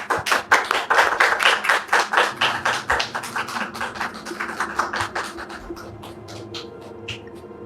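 An audience claps in welcome for an invited guest, starting loud and rhythmic with many hands and gradually thinning to scattered claps as it dies down, with no talking.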